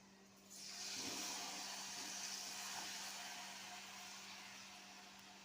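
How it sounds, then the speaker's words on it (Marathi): Paneer cubes drop into hot oil for deep frying, setting off a sudden, steady hiss of sizzling bubbles that stays strong and then eases a little. A low hum runs underneath. "इथे अशा प्रकारे आपल्याला पनीर डीप करून सगळे पनीर डीप करून फ्राय करून घ्यायचे आहेत"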